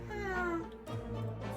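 A cat meows in the survival video game 60 Seconds, a single drawn-out meow followed by a shorter one, close and clear, with no speech.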